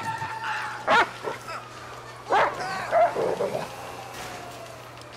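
A shepherd dog in GTA V gives several short barks and whimpers at irregular intervals, fairly close, over a low steady game hum, with someone speaking briefly between them.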